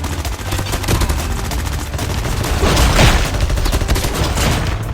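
Rapid automatic gunfire from the mobile game Call of Duty Mobile, loud continuous bursts filling the whole stretch with dense, overlapping shots.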